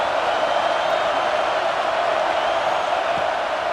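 Stadium crowd noise in the College Football 26 video game, with a raucous Washington home crowd roaring steadily and loudly throughout, a dense continuous wash of cheering with no breaks.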